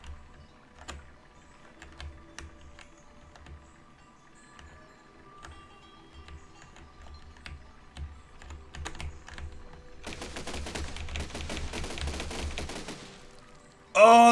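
A fast, dense crackle of cannon fire bursts out in the building game Besiege after scattered sparse clicks, then cuts off with a sharp loud hit at the end.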